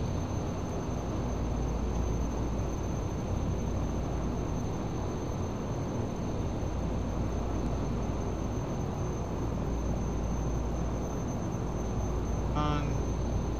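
A Shorts 360 propeller aircraft takes off in the Prepar3D flight simulator, a steady loud broadband engine and propeller drone holding evenly throughout, with a brief chirp near the end and no talk.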